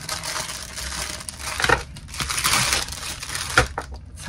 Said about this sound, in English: I hate these plastic bags.